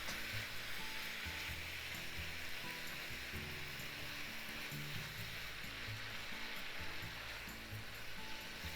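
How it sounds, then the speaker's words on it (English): Pork stir-frying in a pan, a steady, dense sizzle with soft stirring and scraping underneath, continuous and close with no talking. "Keep cooking until the pork is completely cooked."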